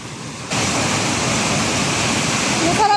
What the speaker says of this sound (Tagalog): Dito may mga waterfalls.